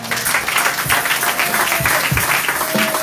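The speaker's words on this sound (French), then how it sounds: "Acclamez pour Jésus." A church congregation applauds for Jesus at a wedding consecration service, steady, dense clapping from a full room that holds at an even loudness throughout, with no talk over it.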